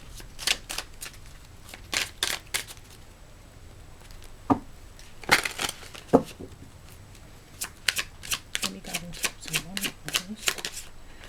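Astrology cards are shuffled close up in repeated bursts of crisp riffling and flicking, with short pauses between them and a voice speaking briefly in the gaps.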